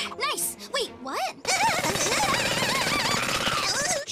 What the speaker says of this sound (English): did you leave a jackhammer on the playing field?